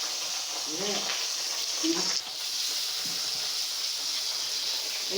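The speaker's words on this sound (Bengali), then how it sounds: "এখানে মাছ রান্না করছি" Fish fries in a pan on a home stove, a constant close hiss and sizzle with a voice briefly speaking over it early on.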